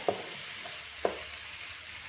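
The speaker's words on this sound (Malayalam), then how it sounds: "ഇതിനെ ഒന്ന് നമുക്ക് വഴറ്റി കൊടുക്കാം." Ingredients sautéing in a pan after salt is added, a soft low sizzle broken by two sharp spatula taps about a second apart.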